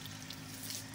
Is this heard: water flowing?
yes